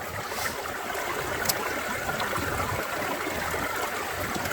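Water sloshes and washes steadily through a gold pan during panning at a Colorado stream, a continuous close rushing trickle with no talking.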